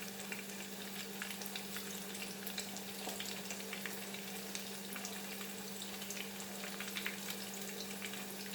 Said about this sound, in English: So let it get nicely fried, like crispy fried.